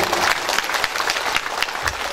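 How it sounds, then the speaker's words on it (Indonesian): An audience at a religious lecture in Indonesia claps in a dense, sustained burst of applause filling the room, steady and loud throughout. "Tepuk tangan dong buat Madinatul Ilmi Bapak Ibu."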